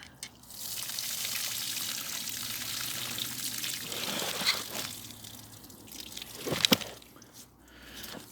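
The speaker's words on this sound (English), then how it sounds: "now we've emptied that water out" Water tipped out of a container holding strawberry plants in an outdoor allotment, a steady close splashing pour that trails off into drips and a couple of sharp clatters.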